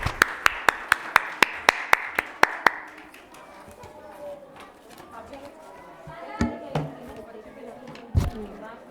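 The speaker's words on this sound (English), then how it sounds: "Give a big round of applause for ma'am to guiding us." A run of about ten sharp, evenly spaced claps opens the scene at a school annual day celebration for the principal, then fades into murmuring chatter and a few scattered knocks.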